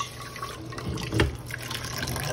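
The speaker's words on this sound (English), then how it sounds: "We're gonna take this bowl, fill it with hot soapy water" Hot soapy water filling a bowl in a kitchen, a brief steady splashing pour with a slight surge midway, close and fairly loud.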